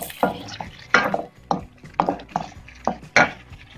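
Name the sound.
adding ground onion and yogurt to frying chicken liver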